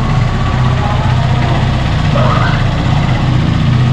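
A Honda Supremo 150 motorcycle engine idles with a steady, even low rumble, loud and close, continuous throughout with no voices.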